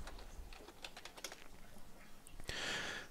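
Fingers type on a computer keyboard in quick, irregular bursts of soft clicks, close and quiet, with a brief rustle near the end.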